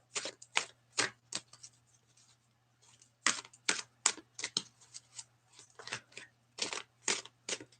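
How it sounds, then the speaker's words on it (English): Oracle cards from a Wisdom of the Oracle deck being shuffled by hand, heard as a string of crisp, close papery riffles in short bursts with brief pauses between them, with no talking. "when I was shuffling, it just kind of dropped out of the deck"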